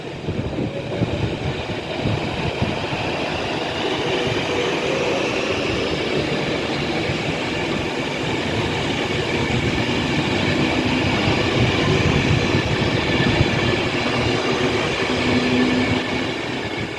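A late-running West Coast train departing Rugby station for Manchester Piccadilly, heard as a steady, loud rumble of wheels and rail noise that rolls on continuously for the whole stretch, with faint squeals and no speech.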